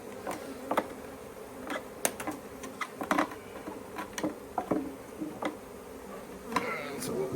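Honeybees from a large swarm buzz around a swarm trap outdoors, a faint steady hum with scattered clicks and taps.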